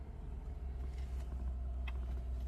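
A Lexus GS450H hybrid sedan idles just after being jump-started, giving a quiet, steady low hum with a few faint clicks over it.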